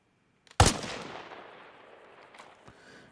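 A single loud sniper rifle shot in Arma Reforger, a sharp crack that rings out into a long fading tail, with a faint distant thump near the end.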